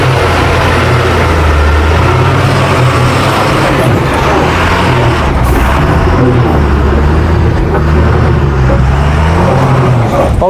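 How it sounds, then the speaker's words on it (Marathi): A soil-laden hywa dump truck labors up a hilly, ghat-style road, its heavy engine droning loud and steady with a deep low rumble throughout, no talk heard. "तळ्यामधनं हा हायवा भरून आला आहे संपूर्ण मातीने भरला आहे"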